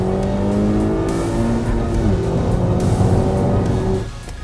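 A 2016 Honda Civic Type-R turbocharged engine revs hard and loud, pitch climbing and shifting through gears, then the revs drop away near the end.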